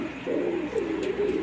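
A Rampuri pigeon coos in a soft, low, rolling call, repeated a few times in quick succession, close and clear with no talking.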